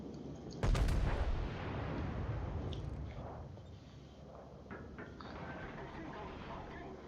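A battleship firing armour-piercing shells in World of Warships: a sharp, loud booming salvo up front, then a rumbling decay and scattered distant thuds and splashes, with a voice talking over the game sound.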